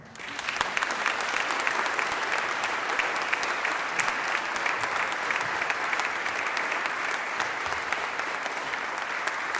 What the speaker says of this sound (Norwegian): Liten applaus.